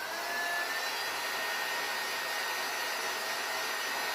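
Steady, loud blowing hiss of a heat gun shrinking plastic wrap around a game-night and movie-night gift basket, running continuously and close up with no talking.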